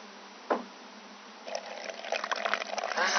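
Water pours onto a board coated with hydrophobic solution, a soft tap after a pause, then a growing splashy trickle that builds to the end, close and fairly quiet.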